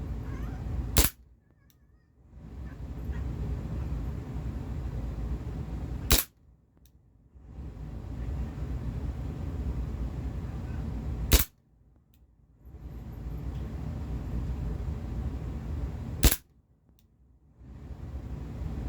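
Four sharp single shots ring out about five seconds apart from a Cybergun Desert Eagle CO2 airsoft pistol firing BBs as its gas runs low. Each crack is close and loud over a steady background hiss.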